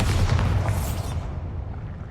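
The Bombarda explosion spell in Hogwarts Legacy gives a booming blast with crackling debris that fades into a lower rumble, heard loud and close with no voices.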